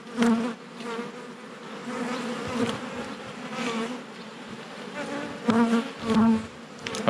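Honey bees buzzing loudly around an open hive during an inspection for supersedure or swarm cells, a dense steady hum with individual bees swelling nearer and fading, no talk.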